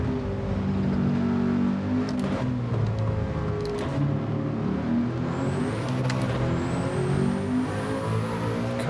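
Race car engine in the Gran Turismo video game, a steady droning roar that shifts pitch with throttle and gear changes, loud and continuous throughout.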